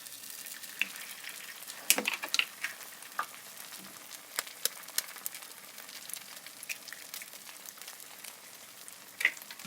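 Eggs fry in a pan for anda tikki with a soft, steady sizzle, broken up by sharp crackles and pops and a few louder spits scattered throughout.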